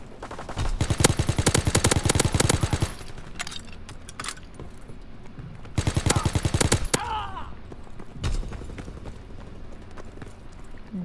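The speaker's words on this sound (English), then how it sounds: "Need suppressing fire." Long, rapid bursts of automatic gunfire in Call of Duty WWII: two sustained volleys of fast rhythmic shots with a few single cracks between, loud and close.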